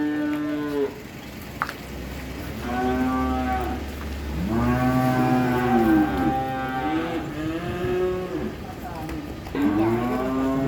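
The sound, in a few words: cattle mooing at Sapipedia Wonogiri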